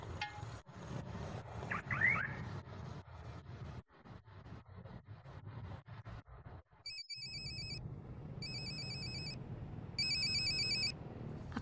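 A telephone rings out while someone calls Junaidi, with three evenly spaced bursts of a bright electronic ringtone sounding over a muffled, rustling background.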